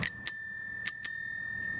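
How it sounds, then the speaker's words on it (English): Bicycle bell on a 1982 Schwinn World Tourist 5-speed rung close up, two quick double dings with bright metallic rings that linger and fade between strikes. "now obviously they could have put that bell on any time,"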